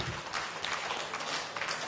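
An audience claps during a Catholic bishop's speech, a steady wash of scattered applause at moderate distance lasting throughout, with no speech over it.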